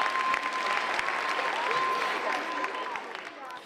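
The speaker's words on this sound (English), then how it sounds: "Clap for Stefan" An audience at a 2017 year-end stage show about Stevie Wonder breaks into steady, sustained applause for an honored guest, a dense wash of clapping that holds for several seconds and then slowly thins out at the end.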